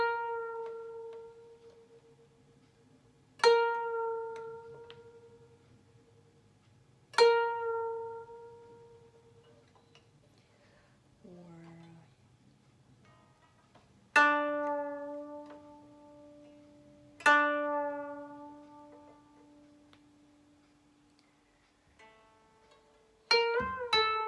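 A koto is plucked in a quiet room, with single bright notes ringing out and decaying slowly, several of them bent as the left hand pulls the strings to change tension, and a quick flurry of notes at the end.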